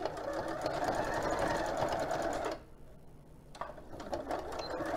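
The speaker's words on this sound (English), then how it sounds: "so we want to sew on this side" A sewing machine with a regular presser foot runs steadily, stitching along one side of joined fabric pieces, then pauses briefly and starts up again, close and alone.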